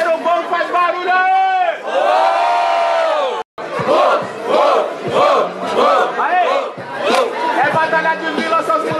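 A crowd at a rap battle shouts, whoops and cheers loudly in a few bursts, with overlapping voices and a brief cut partway through.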